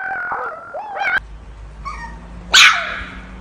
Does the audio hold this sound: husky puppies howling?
yes